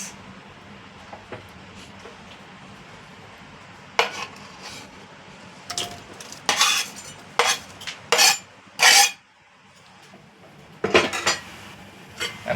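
Onions go into a hot pan of oil with red wine vinegar for chicken adobo and are stirred, making a run of clanking utensil scrapes and knocks on metal, close and fairly loud over a low background hiss, with no talking.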